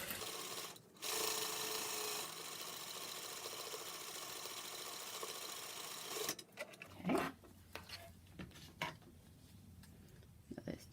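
A sewing machine stitches fabric-covered welt cord at a stitch length of about 3.5 to 4. A steady mechanical whir runs for several seconds, then stops, followed by quieter handling noises and clicks.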